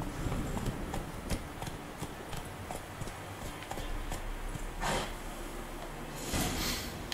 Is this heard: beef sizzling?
no